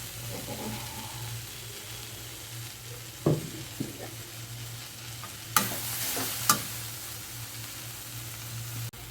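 Ground garlic and dried red chilli paste frying in a pan, a steady low sizzle with a few sharp stirring clinks and scrapes, close and moderately loud.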